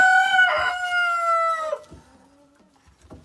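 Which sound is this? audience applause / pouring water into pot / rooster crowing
rooster crowing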